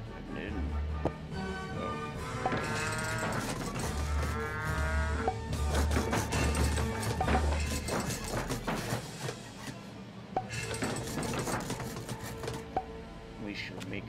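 Cartoonish cow moos from the Rock of Ages II video game, repeated several times over busy game music and rolling effects, with a person talking throughout.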